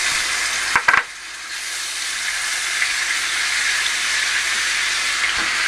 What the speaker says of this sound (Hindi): जो साबुत गरम मसाला मैंने इसमें डाला था वो भी थोड़ा सा फ्राई हो गया अच्छा सा